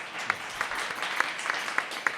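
Studio audience applause at a live public radio show, a brief, fairly soft burst of clapping with a few sharper individual claps standing out.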